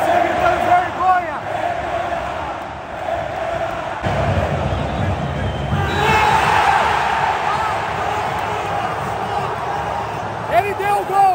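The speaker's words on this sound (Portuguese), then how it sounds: "A torcida gritando vergonha." Football stadium crowd at a Palmeiras match chanting a rhythmic word of protest in unison, loud and massed, with roaring swells and a commentator talking over it.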